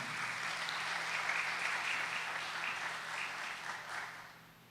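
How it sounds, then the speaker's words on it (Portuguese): Soft, steady applause from a gathered audience welcoming a couple, heard at a distance and fading slightly toward the end, with no speech. "com uma salva de palmas bem bonita"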